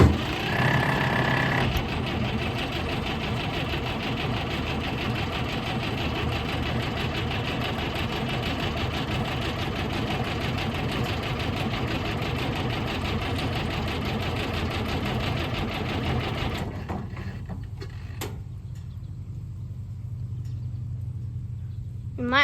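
Diesel engine of a tractor running after the fuel was primed, a steady loud rumbling chug that continues for a long stretch before cutting out, leaving a low hum and a few clicks.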